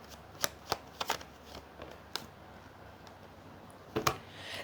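Tarot cards are shuffled and drawn by hand, making close, crisp snaps and riffling flicks in irregular clusters separated by quiet gaps, with no speech.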